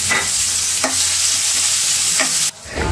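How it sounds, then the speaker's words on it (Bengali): Oil, onion, crushed garlic and green chili sizzle steadily in a hot wok, a bright continuous frying hiss broken by a few scraping stirs, briefly quieter near the end. "এখন কড়াই গরম হলে তার মধ্যে দিয়ে দিয়েছি তেল, পেঁয়াজ দিয়েছি, রসুন থেঁতো আর হচ্ছে কাঁচামরিচ"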